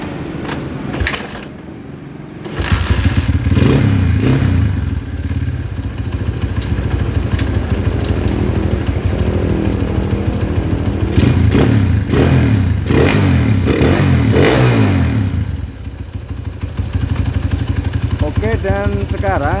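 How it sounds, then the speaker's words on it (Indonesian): Small motorcycle engine restarted after an oil leak check, running at a steady rattling idle with a few revs, close and loud, with someone talking over it throughout. "Kita nyalakan kembali dari mesinnya."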